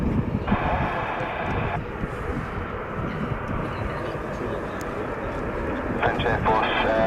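An Italian Air Force Panavia Tornado A-200 jet departs at the RIAT 2017 airshow, a steady broad roar that holds throughout and swells slightly near the end, under radio chatter from air traffic control.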